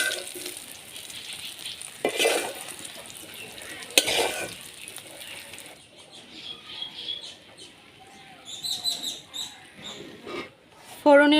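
Fried shrimp, cooked until red, stirred and lifted out of a kadai, with soft frying sizzle and scraping utensil clatter, a few louder clanks, close and moderately loud.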